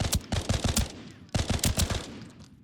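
Semi-automatic gunfire in the video game Arena Breakout Infinite, a rapid string of loud, punchy shots in two quick bursts, close and dominant.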